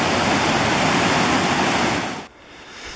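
Rushing water of a mountain stream crossing on the west slopes of Mt Antero, a loud, steady broadband wash close by that drops away sharply near the end.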